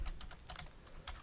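Quick, steady keystrokes on a computer keyboard while code is being typed, close and clear with no talking.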